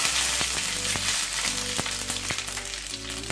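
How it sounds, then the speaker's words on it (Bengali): Black cumin, mustard seeds and slit green chilies crackle in hot oil as a dense, loud sizzle, with repeated sharp pops and spatters spread through it. "কালো জিরে আর সর্ষেটা আমি ফোড়ন দিয়ে দিচ্ছি আর দিয়ে দিচ্ছি দুটো কাঁচা লঙ্কা চেরা"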